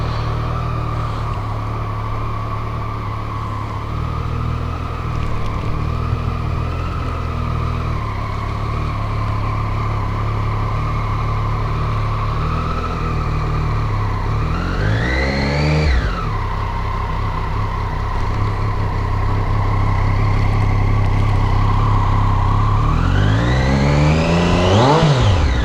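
Riding a Triumph Street Triple 765RS, its three-cylinder engine drones steadily and loud at close range, then rises in two sharp revving surges with quick drops between, no voices over it.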